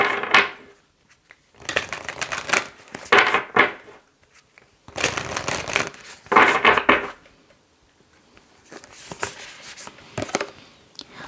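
Tarot cards shuffled and drawn during a Sagittarius monthly reading: close, crisp papery riffles and slaps in several short bursts separated by brief pauses.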